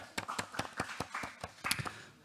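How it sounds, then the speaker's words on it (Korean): A small audience at an art and technology matching event claps for a presenter from a new-media company. The claps are sparse and distinct, fairly quiet and steady for about two seconds, with no talking. "박수 뜨겁게 부탁드립니다"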